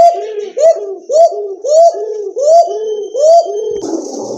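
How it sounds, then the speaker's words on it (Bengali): A pair of bright red Mukhi pigeons coo up close and loud, about six rhythmic, evenly spaced rolling calls in a row, ending with a brief burst of other noise. "মাশাআল্লাহ এক জোড়া মুখী কবুতর, টকটকে লাল"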